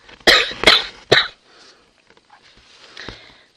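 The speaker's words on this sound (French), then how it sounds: "Alors je vais tousser un petit peu" A woman coughs three times in quick succession, close and fairly loud, followed by a few softer breathy throat sounds and a faint final cough, with no talk.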